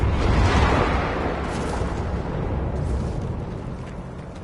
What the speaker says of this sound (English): That was the old Macvoss cannon.